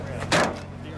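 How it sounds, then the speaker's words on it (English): A single solid thunk as the engine compartment lid of a 1989 Safari Porsche 911 Carrera is shut, brief and close, with steady background noise around it. "let's shut the engine compartment"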